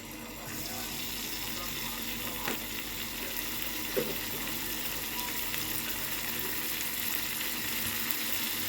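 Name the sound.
garlic frying in ghee in a small pan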